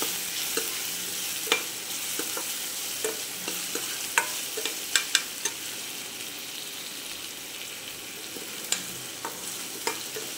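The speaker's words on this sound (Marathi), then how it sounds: "कांदा आपल्याला लालसर भाजायचा आहे" Onions fry in a pan for shev bhaji, a low sizzle broken by regular scraping and tapping strokes of a spatula stirring them, close and steady with no voices.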